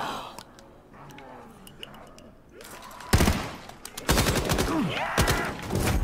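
Gunfire rattles through a round of Call of Duty Black Ops 3 Zombies, with scattered lighter shots at first and then loud, dense volleys in quick succession near the end.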